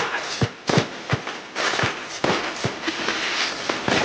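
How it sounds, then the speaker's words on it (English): Fireworks and firecrackers going off across a neighborhood, a run of sharp cracks and pops at uneven intervals over about four seconds, some close and loud, others more distant, with a steady crackling haze between bursts. "I feel like I'm hearing the fireworks now more"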